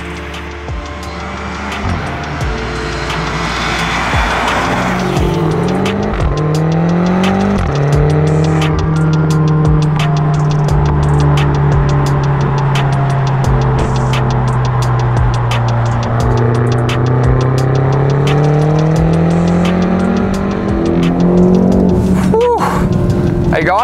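A 2016 BMW X6 M engine drones steadily through a long pull on country roads in Victoria, its pitch rising and falling with shifts, loud and close throughout.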